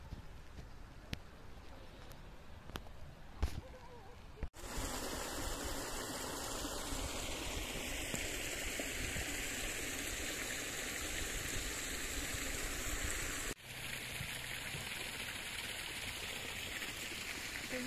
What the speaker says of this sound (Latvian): te ir bišķiņa ūdentikša